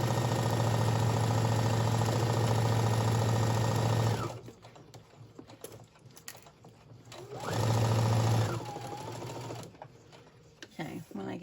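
A sewing machine stitches fabric for large bows in two steady, fast-whirring runs of about four and one seconds, loud and close, with a quiet pause and a soft voice between them.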